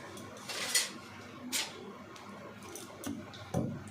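Oil being stirred on a hot griddle pan, with a few light metallic scrapes and clinks from a utensil against the pan in short bursts over low background hiss.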